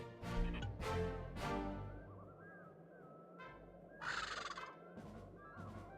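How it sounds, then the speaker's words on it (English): Cartoonish bird calls in a Sly Cooper 2 video game scene, where an angry eagle parent swoops in, several squawking cries and honks over a busy game soundtrack, with a bright screech near the end. "Plant the eagle egg on Bassan, and the angry eagle parent should swoop in and throw off his axe timing."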